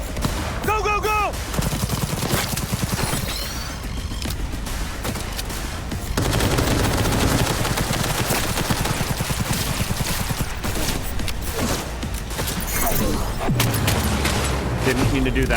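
Automatic gunfire and bursts in the video game Cyberpunk 2077, loud and dense through a chaotic firefight, with a voice shouting over the shooting at moments.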